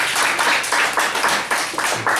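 A church congregation claps in rhythm after a prayer, loud unison claps falling in a steady regular beat of roughly four per second, close and prominent.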